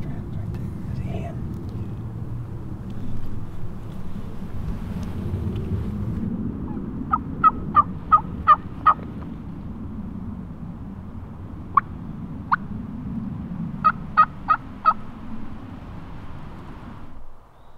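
A wild turkey hen calls in the open outdoors over a wind-buffeted background. Two series of sharp, evenly spaced yelps come in clear rhythmic runs, with a couple of single notes between them, fairly close and distinct.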